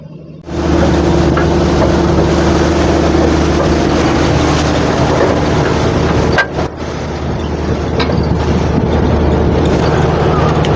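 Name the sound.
launch (passenger riverboat) approaching on the Padma river, Chandpur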